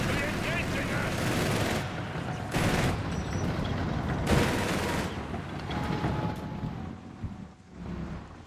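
MG-42 machine gun and G-43 rifle fire in the World War II strategy game Company of Heroes 3, with loud dense bursts of automatic gunfire and booming explosions rolling over a commentator talking throughout.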